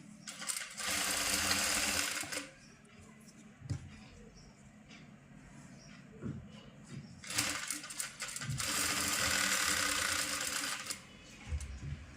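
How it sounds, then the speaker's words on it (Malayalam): A sewing machine stitches a side pocket on a pair of pants in two loud, close runs, a short one first and a longer one later, separated by quieter handling sounds and faint talking. "ഇനി നമുക്ക് ഇതുപോലെ തന്നെ ഒന്നിത് സ്റ്റിച്ച് ചെയ്ത് കൊടുക്കാം"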